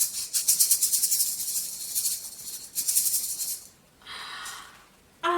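Rain falls in a steady, dense hiss with a fluttering, pulsing texture that briefly thins and then returns; no voices.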